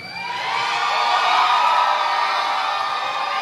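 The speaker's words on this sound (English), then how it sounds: "I think you guys are the loudest crowd I've ever played for." A concert crowd at Mesa Theater in Grand Junction, Colorado cheers and whoops in a loud, sustained roar that swells and holds steady throughout, with no talk over it.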